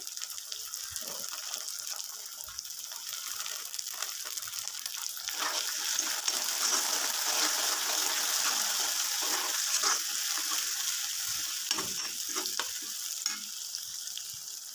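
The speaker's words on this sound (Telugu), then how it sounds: "చూడండి, ఆనియన్స్ బాగా వేగుతున్నాయి." Onions frying in oil with cardamom, cloves and caraway give a steady, close sizzle that swells midway, with occasional stirring scrapes and no talk.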